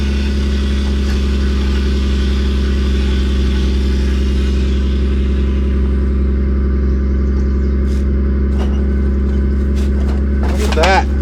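A Toyota Supra engine that sat unused for years runs at a steady idle, a strong low rumble holding throughout with some ticks and light clatter near the end.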